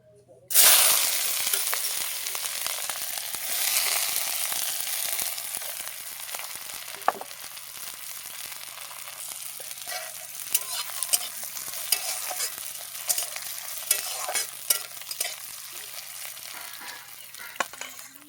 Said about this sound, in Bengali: তেল দিয়ে দেবো তেজপাতা পেঁয়াজ দিয়ে দেবো